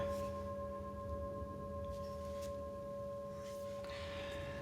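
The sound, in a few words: struck metal singing bowl ringing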